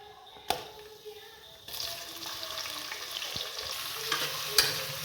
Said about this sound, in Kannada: ನೋಡಿ, ಈರುಳ್ಳಿ ಹಾಕಿದ್ದೀನಿ. ಅದೊಂಚೂರು ಬ್ರೌನ್ ಕಲರ್ ಬರೋ ತನಕ ಹೀಗೆ ಬಾಡಿಸ್ಬೇಕು.